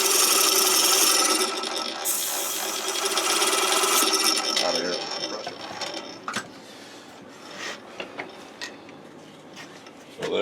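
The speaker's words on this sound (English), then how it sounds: "We'll finish sanding this out." Steady abrasive rubbing of sandpaper on a wooden pattern for a Delta wood lathe countershaft bracket, loud at first, then thinning into scattered scrapes and taps.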